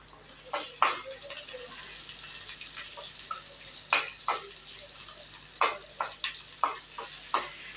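Green chili, onion and tomato frying in a pan over a high gas flame, with a soft sizzle underneath and repeated sharp scraping stirs at irregular intervals, close and fairly quiet.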